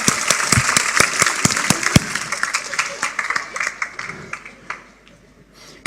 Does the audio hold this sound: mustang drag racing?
no